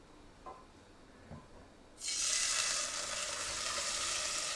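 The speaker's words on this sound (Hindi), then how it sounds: "दलिए को जो हमने भिगो के रखा था, तब हम थोड़ा सा भून लेते हैं" Soaked broken-wheat porridge hits hot ghee in a pan and breaks into a bright, loud sizzle, holding steady after a couple of faint taps beforehand.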